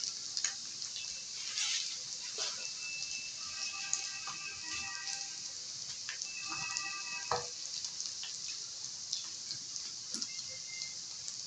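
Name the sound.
onions and cabbage frying in a pan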